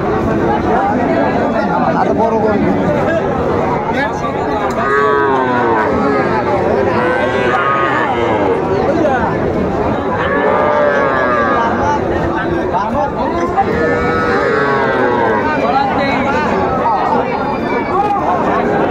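Small bulls and heifer calves at a Ranigonj cattle market in Dinajpur, lowing now and then amid a steady hubbub of crowd chatter and people talking.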